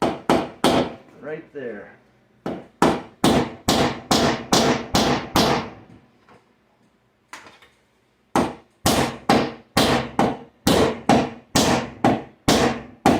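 A hammer beats out a dent in the trunk of a 2009 Chevrolet Malibu, giving loud, sharp metallic blows in two fast rhythmic bursts separated by a pause, with a brief spoken remark.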